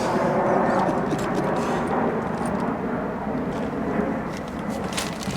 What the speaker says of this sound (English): Let's wait till the airplane passes by.